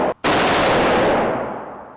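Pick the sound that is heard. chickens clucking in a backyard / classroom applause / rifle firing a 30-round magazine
rifle firing a 30-round magazine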